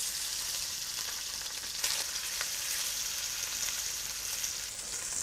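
A chicken leg roulade with melting cheese sizzles steadily in a hot pan, a continuous close hiss with faint crackles and no talking.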